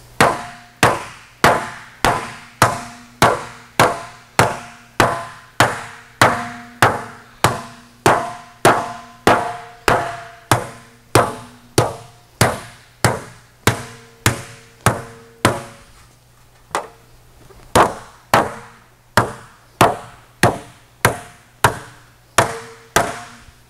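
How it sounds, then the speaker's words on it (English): Large hammer shaping sheet metal for a Porsche 550 dash, about thirty loud ringing blows in a steady rhythm, a brief pause, then more strikes, close and alone. "We'll get a bigger hammer."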